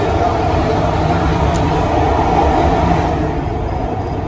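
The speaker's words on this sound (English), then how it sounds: "What's it like being on this train?" Athens metro train in motion, heard from inside the carriage as a steady, loud rumble and rail roar that holds for the whole stretch, with people talking faintly beneath it.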